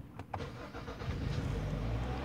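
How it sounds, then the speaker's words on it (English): A Kia Optima with a fuel pressure fault cranks for a moment, then catches and settles into a steady idle, heard close and fairly quiet with no talking. "So let me go ahead and start the engine real quick for you guys."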